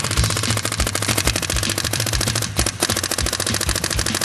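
Virtue paintball marker board set to auto response mode fires a rapid, steady stream of close, loud, sharp pops, roughly evenly spaced and continuous throughout with no talking.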